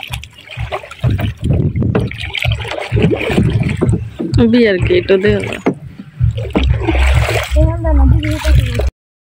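Oars splash and water gurgles as a small rowboat moves along a river, with people talking throughout.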